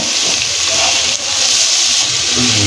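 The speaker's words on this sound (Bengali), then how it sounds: "পেঁয়াজ কুচি আর মরিচটাকে একটু ভেজে নিব আমরা" Chopped onion and chili sizzling in hot oil in a pan for a Bangladeshi bata fish curry, a steady loud frying hiss throughout with no pauses.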